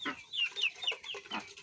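Chickens cluck in a rapid series of short, close calls as the hens and ducks are let out in the morning, with no voices.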